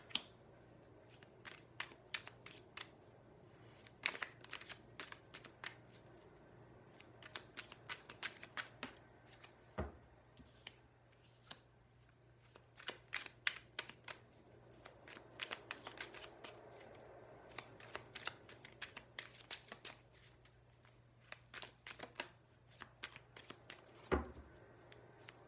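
Tarot cards are shuffled by hand in a quiet room, a long run of quick, crisp riffling bursts and soft slaps, repeated in irregular clusters, with a steady low hum beneath.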